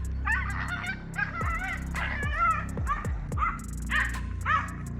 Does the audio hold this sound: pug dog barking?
yes